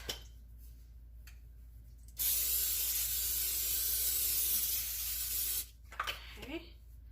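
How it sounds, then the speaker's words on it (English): Cooking spray hisses steadily onto a baking pan for homemade filled doughnuts, one continuous close burst lasting a few seconds, with quiet kitchen handling noise before and after. "we're gonna go ahead and spray this"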